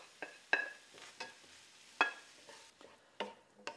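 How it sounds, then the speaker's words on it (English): Keema mince and mushrooms are stirred in a pan in an Indian kitchen. Repeated scraping strokes of a spoon come at irregular intervals over a faint background sizzle, close and fairly quiet. "Give that a good stir and then add the mushrooms"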